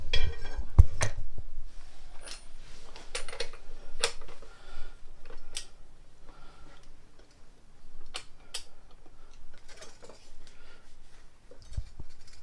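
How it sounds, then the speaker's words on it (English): On a 1950 MG TD, a nut is tightened to 150 foot-pounds with a ratcheting wrench, giving a series of sharp metallic clicks and clinks, irregularly spaced and close by, with no talking. "have to be tightened up to 150 foot-pounds"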